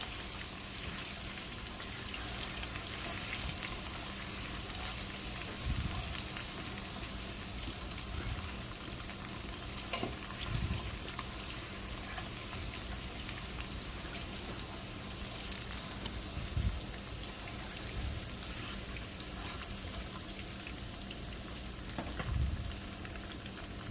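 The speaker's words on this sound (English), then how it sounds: "We're going to add about 2 cups of onion and some rosemary. Give it a quick stir." Onion and rosemary frying in palm oil for a fish stew, giving a constant, fairly faint hiss and crackle with occasional soft stirring taps.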